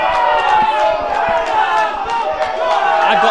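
A crowd applauds and cheers at a £13k blackball pool money match after a great shot, with dense, steady clapping and voices in the room throughout.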